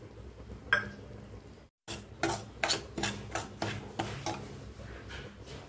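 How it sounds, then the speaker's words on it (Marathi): Semolina and moong dal flour roasting in ghee in a pan, with a run of rhythmic scraping strokes of a spatula against the metal pan, close and moderately loud after a brief gap. "नंतर यामध्ये रवा छान तुपामध्ये भाजून घ्यायचा। नंतर मुगाच्या डाळीचं पीठ टाकून घ्यायचं।"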